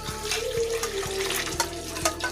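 Coconut milk mixed with ground garlic and cumin poured into a pot of cooking rice, a continuous close pouring and splashing under soft bubbling with a few sharp clinks.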